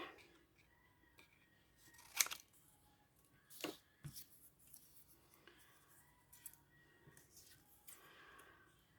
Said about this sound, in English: Let's just cut out a couple of these smaller roses.